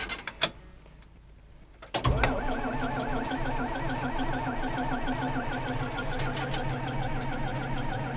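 A John Deere 4230 tractor cold-starts after a few quiet seconds. A short starter crank catches into a loud, steady diesel idle rumbling close by.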